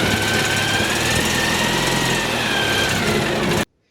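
A Citroën 2CV engine runs steadily and loudly at close range, a continuous buzzing air-cooled drone that may be due a tappet adjustment, then cuts off abruptly.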